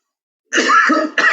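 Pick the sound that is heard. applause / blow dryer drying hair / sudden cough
sudden cough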